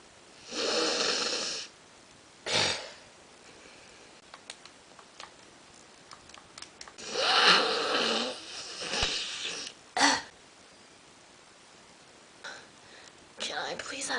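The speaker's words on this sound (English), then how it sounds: "it is just constant sniffling" A bundled-up person sniffles repeatedly in short, sharp bursts spaced irregularly across the stretch, some louder and longer than others, in a quiet room.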